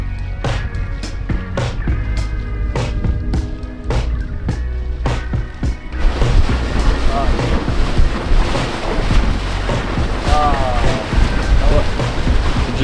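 Wind roars over the microphone with sea wash and waves while sailing close to the coast of the North Sea, a steady loud rush that thickens about halfway through, with sharp clicks and knocks from the boat in the first part.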